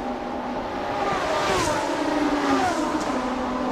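Race cars roar past the pit area during a TSS 2018 race, engines loud and sustained with rising and falling pitch as they pass, heard from a distance along the track.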